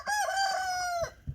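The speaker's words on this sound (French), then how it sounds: "Un coq il doit chanter quelques fois puis c'est tout." A rooster crows once in a single loud, close, drawn-out call, ending with a faint scuffle; nobody speaks.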